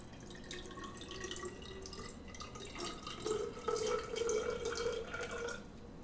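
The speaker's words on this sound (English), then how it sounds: "So let's add some water to this thing." Water poured into a half-filled beaker, a steady trickling and splashing stream that rises in pitch and grows a little louder as the level climbs, heard close up with no talking.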